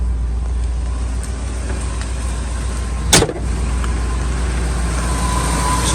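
A Ford truck engine idles steadily after a cold start, a low continuous rumble with a rough idle from throttle body and idle air control trouble. One brief louder thump breaks the drone about halfway through.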